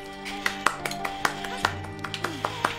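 Applause in the game Zelda: Ocarina of Time, heard as a sparse run of light, evenly spaced claps over a steady tonal game background, fairly quiet.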